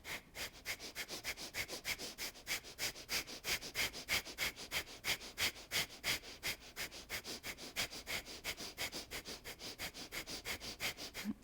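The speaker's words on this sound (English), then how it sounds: "Now short breath in from the nose. Pump it out from the nose." Rapid, forceful breaths are pumped out through the nose during an energising vinyasa yoga session, a steady fast train of sharp, even exhalations, about three per second, continuing for the whole stretch and heard close with no talking.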